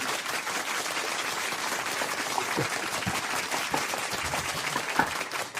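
Applause at an awards event fills the room, a steady, dense wash of many hands clapping close by, with a few sharper individual claps standing out.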